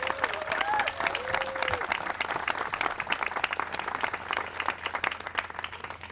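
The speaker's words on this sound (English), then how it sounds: "let's give him a round of applause" Crowd applause and cheering for Senator Markey at a Boston Housing Authority event at Franklin Field, with steady dense clapping through the whole stretch and a voice briefly calling out over it near the start.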